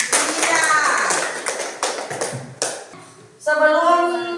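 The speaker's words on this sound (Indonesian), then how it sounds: "Mari kita beri tepuk tangan yang meriah." Classroom applause from schoolchildren after a group presentation, a few bursts of uneven hand clapping mixed with children's voices and chatter, close and fairly loud.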